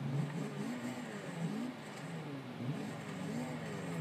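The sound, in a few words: 2014 Nissan Juke Nismo RS engine in video game Forza Horizon 2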